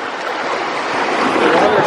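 Warm, clear sea water at a Florida beach, a steady broad wash of surf and lapping water close by, loud and continuous with wind noise across the mic.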